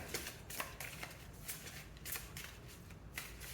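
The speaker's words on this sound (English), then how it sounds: "Let's get a couple more shuffles" Tarot cards are shuffled close by in soft, quick riffling bursts, several repeated flutters and snaps at a low, quiet level with no talking.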